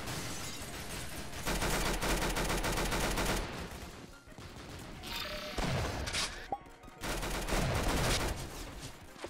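A machine gun fires in Roblox Arsenal in long, loud continuous bursts, broken by a short pause and then more sustained rapid fire, with thuds and crashes mixed in.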